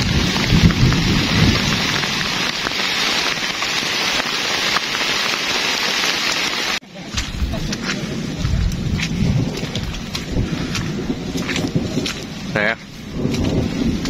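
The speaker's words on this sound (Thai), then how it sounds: "เรื่องฝนตกครับ" Heavy rain pours steadily on an early-morning fishing trip, a dense close hiss broken by a sharp thunderclap midway, after which the downpour continues with crackling drops and faint rumbles.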